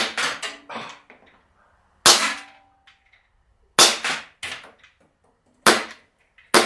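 A KWC 24/7 TAC non-blowback CO2 pellet pistol fires four sharp, snappy shots outdoors, evenly spaced about two seconds apart, each a crisp pop with a short decay, with faint clinks in between.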